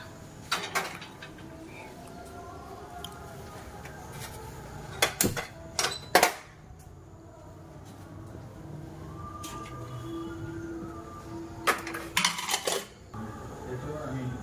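A metal wok is set on a home stove, with several sharp clanks and scrapes of cookware in separate clusters against a quiet kitchen background, and a louder rattling bang midway.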